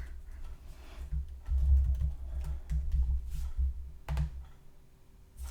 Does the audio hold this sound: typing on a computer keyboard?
yes